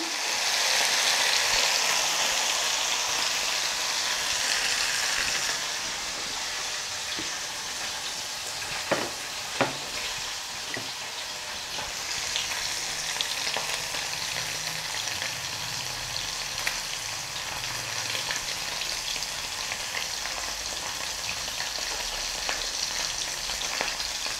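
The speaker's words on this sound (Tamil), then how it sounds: "கொஞ்சம் கொஞ்சமாக போட்டு பொறிச்சு எடுத்துருங்க" Small anchovies deep frying in hot oil, a steady close sizzle and crackle that is loud at first and then settles into a softer bubbling hiss, with a few sharp pops and clinks from a utensil partway through.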